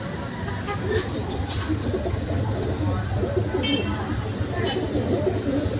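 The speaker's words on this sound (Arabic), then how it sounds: "ادي الحمام اهو رجاله" Pigeons coo softly and repeatedly close by, with murmured voices and a few sharp chirps in the background.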